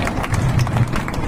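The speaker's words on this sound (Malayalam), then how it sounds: "നമ്മുടെ ഈ അനുഗ്രഹീത കലാകാരന് നല്ലൊരു കയ്യടി കൊടുക്കണം." An audience at a live event claps for a performer: dense, continuous applause, loud and close, with a rapid patter throughout.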